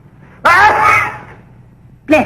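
A loud, abrupt sneeze bursts out in a comedy film scene, trailing off over about a second, followed by the start of a second sharp burst.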